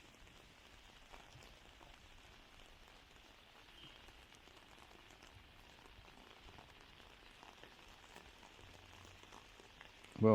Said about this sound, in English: it's a lovely walk in the rain